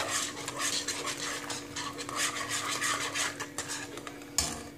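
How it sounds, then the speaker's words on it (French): Homemade laundry detergent mixture stirred to dissolve, with repeated scraping and rubbing of a utensil against a container, soft and close, ending with a louder knock, no speech. "on va le mélanger pour que ça soit, pour que tout fonde correctement"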